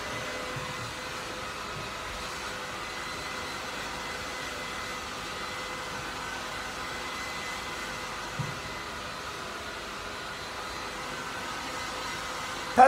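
A hair dryer blows steadily from directly above onto the bangs while they are styled to hide the part line, a continuous even whoosh holding at moderate level throughout, with a faint brief knock near the end.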